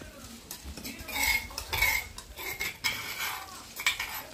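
Cumin seeds and chopped green chillies being stirred into vada batter in a bowl, with repeated soft scraping and clinking of a spoon against the vessel, close and fairly quiet, no talking.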